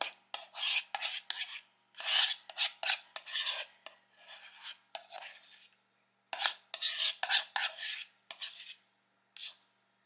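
Ricotta and egg mixture scraped and stirred into cooked pasta for baked ziti, giving repeated short rasping, scraping bursts of a utensil against a dish in two clusters with brief pauses between.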